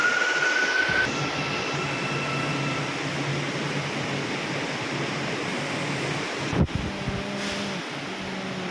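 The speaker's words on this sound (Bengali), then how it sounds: "Malaysia metro rail" A Malaysian metro rail train hums steadily on an elevated line during heavy rain, a low continuous rumble with a brief tone at the start and a sharp clunk near the end.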